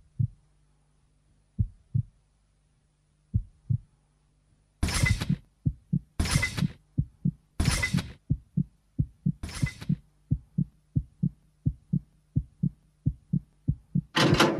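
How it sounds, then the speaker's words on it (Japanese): A video game heartbeat effect thumps alone, sparse at first and then quickening into a rapid, steady pulse, with a few louder broadband hits mixed in. "彼女の心音もそれに呼応するように早まっていく。"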